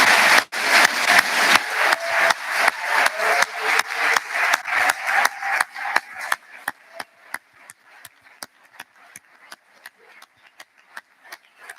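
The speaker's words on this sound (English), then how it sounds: "Could I ask the class of the Bachelor of Science in Furniture Design and Manufacture 2022 to please stand and accept a round of applause." Applause from a ceremony audience for a standing Bachelor of Science furniture design and manufacture graduating class, loud and dense at first, then thinning to scattered individual claps that continue sparsely and fade out.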